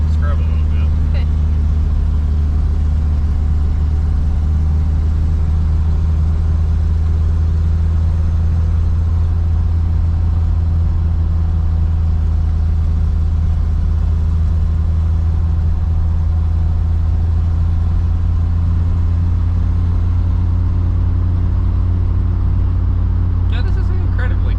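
A 1986 Nissan 200SX with a 5-speed manual hums along the road at steady speed on wide tires, its engine drone constant and close under ongoing talk inside the cabin.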